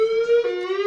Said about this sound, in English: We are investigating an alarm condition. It may be necessary to evacuate the building.